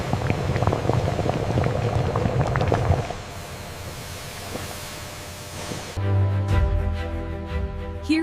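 Hot water and milled grist churn together inside a large brewery mash tun, a steady bubbling, rumbling liquid wash that drops quieter midway before a louder, more mechanical churning surge.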